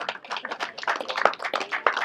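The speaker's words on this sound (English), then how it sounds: "If you can give him a big round of applause for organising for today." Scattered clapping from a crowd gathered at a Cars and Coffee meetup hosted by a 4x4 club, a short burst of distinct, uneven hand claps close by, lasting about two seconds.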